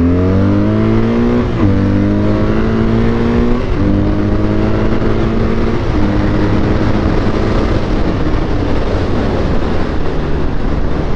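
A BMW R12 motorcycle pulls away and accelerates hard on a closed road. The engine climbs through several gears, the pitch rising and dropping at each shift. It is loud and close, ending in a sustained high-revving roar.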